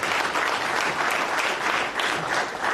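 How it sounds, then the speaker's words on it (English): A town hall audience claps in steady, dense applause that rises and falls slightly in waves, filling the room without a break. "a round of applause for Tom Z"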